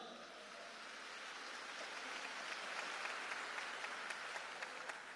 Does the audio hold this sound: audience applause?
yes